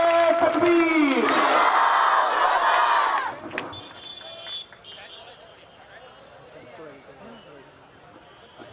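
A large crowd at a religious gathering roars a loud collective chant in answer to a Takbir call, a dense burst of voices lasting about three seconds before dropping to a low murmur of the hall.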